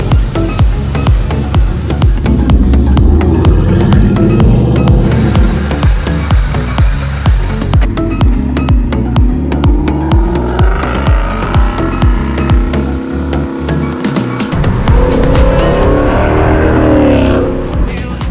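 A GME Performance convertible drives on the road, its engine droning loud and close with rising and falling revs as it accelerates and shifts, a steady roar throughout with no talk.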